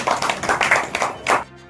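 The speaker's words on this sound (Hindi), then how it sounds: "तालियां बजा दो भाई जरा भाई" Audience clapping at a Congress committee honour ceremony in India, a short patter of several pairs of hands in uneven rhythm, moderately close, fading after about a second and a half.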